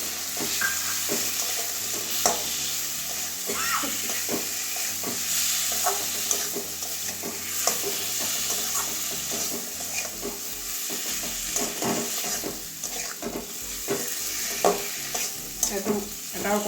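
Tomatoes cut into large pieces sizzle in a pan with prawns, while a utensil stirs and scrapes repeatedly under a continuous hiss of frying.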